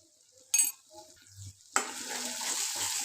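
A spice paste with turmeric, chili powder and salt is stir-fried for a prawn malai curry, with a few scrapes followed by a loud, steady sizzle close up.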